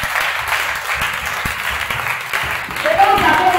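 A church congregation claps and cheers in a lively burst of applause, with voices calling out over the clapping.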